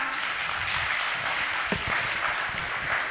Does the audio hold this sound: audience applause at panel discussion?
yes